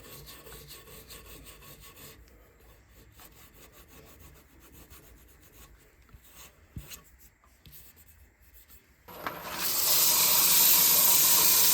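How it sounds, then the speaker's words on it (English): Wood is hand-sanded with fine 600-grit sandpaper in steady back-and-forth rubbing strokes, quiet and close. A loud continuous hiss starts suddenly near the end. "We've gone through the grades of sandpaper down to 600 grit, which is enough"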